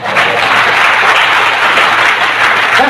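An audience at a motivational business talk claps in a loud, close, continuous wash of many hands for about three seconds, with no speech over it.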